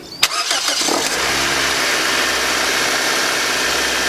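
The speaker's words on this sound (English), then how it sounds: "So I'm going to fire up the engine, let the car warm up." A car engine cranks and fires up after a brief click, then settles into a steady, loud idle that holds for the remaining seconds; the car is being warmed up while checking a temporarily repaired plastic radiator overflow tube fitting.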